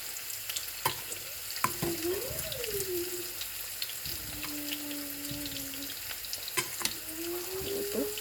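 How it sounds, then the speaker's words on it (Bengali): Onions frying in a pan for kachki fish curry, a faint steady sizzle under clattering clinks and some sliding tonal squeaks from utensils nearby. "আগে পেঁয়াজটা একটু লাল লাল করে ভাজা ভাজা হবে"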